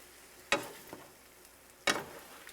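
Fried potatoes, eggs, sausage, peppers and onions stirred in a pan, a faint low sizzle with two sharp scraping knocks of a utensil against the pan, well apart.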